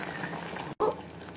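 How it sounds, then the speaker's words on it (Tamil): A pot of coconut milk with rice-flour dumplings made from puttu flour boils steadily, giving a soft, continuous bubbling and simmering that stays faint throughout, broken by a short silent gap midway. "இப்போ கொதிச்சிட்டு இருக்கு."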